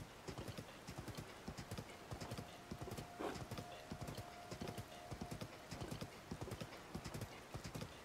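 Steady, rhythmic hoofbeats of a horse trotting in Zelda: Tears of the Kingdom, moderately loud and continuous, with a brief whinny partway through and no talking.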